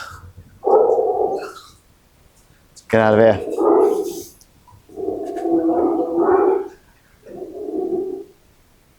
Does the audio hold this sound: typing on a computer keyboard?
no